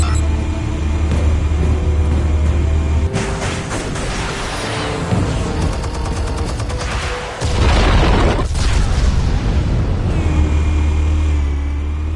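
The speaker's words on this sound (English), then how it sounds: "Explosives armed. Fire when ready." Explosion in the video game Batman: The Telltale Series, a loud sustained roar with deep rumbling low end and bursts of crackling debris over about twelve seconds, alone without speech.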